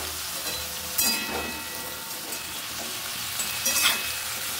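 Vegetable stalks with salt and tomato sizzle steadily in a frying pan while a utensil stirs them, with a couple of louder scraping strokes, close up and without talking.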